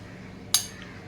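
A single bright clink of a metal spoon against a pot as small pieces of sweet ripe mango are stirred into cooling mango pudding, a short sharp tap with a faint second touch after, otherwise quiet.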